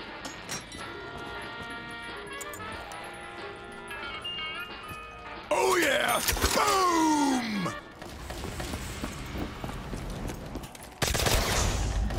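Ray gun fire in Call of Duty Black Ops 3 Zombies, heard as a loud burst of zapping, warbling energy shots over a busy backdrop of game music and chatter, with a second loud stretch of sound near the end.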